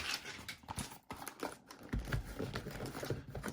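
A cardboard retail blaster box of trading cards being pried open from the side, with close, faint scratching, tapping and crinkling handling noises in irregular bursts.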